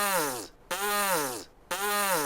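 Three long buzzing lip vibrations, like a brass player's embouchure, each a sustained raspy drone separated by short pauses, close by.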